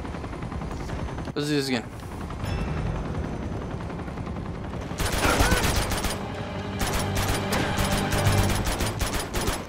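Gunfire in Uncharted 2, loud rapid bursts of automatic shots over a dense, noisy battle background, with someone talking briefly early on.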